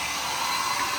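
A hair dryer blows hot air at someone's clothes, giving off a steady, close whooshing roar that holds at an even level throughout.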